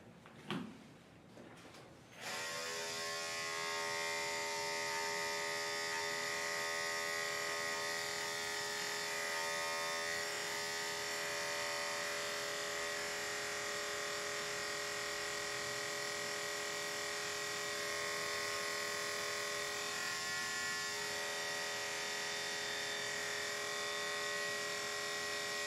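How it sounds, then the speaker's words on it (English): An electric clipper with a blade in need of oil shaves a senior Yorkie, running as a steady close buzz with a strong harmonic whine after a brief start-up. "That clipper blade needs oil"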